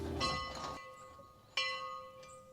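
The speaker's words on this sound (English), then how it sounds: "This room comes with its own bell." A bell belonging to a chapel hotel room rings twice, clear and tonal. Each strike rings on and slowly decays in a quiet room, and the second strike follows after a pause.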